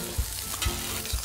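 Pork belly and chestnut pancakes frying in a pan give a dense, continuous close sizzle, with soft low thumps recurring at a regular beat.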